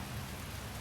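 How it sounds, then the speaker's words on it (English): Rain falls steadily outdoors beside a BMW E38 740iL during an alternator replacement while its coolant drains. The hiss is soft and continuous across a very short stretch, with no one speaking. "starts raining."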